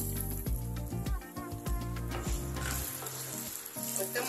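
Ginger and cumin fry in oil over a medium flame while being stirred for a ginger pickle, a faint sizzle set under louder rhythmic background music with a regular thumping beat.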